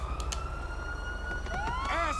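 Police car siren in GTA 5 Online, a steady wailing tone over game engine rumble that rises into a quicker sweeping yelp near the end.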